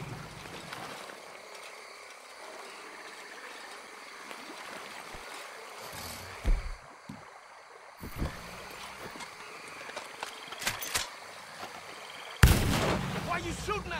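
Gunfire in the Red Dead Redemption 2 video game: scattered sharp shots and bursts, several close and loud, over a steady background rumble, ending in a heavier volley.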